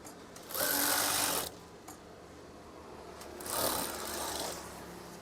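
A sewing machine stitches a curtain hem in two bursts, one longer run early and another a few seconds later, each a fast, even whirring hum with quieter pauses between.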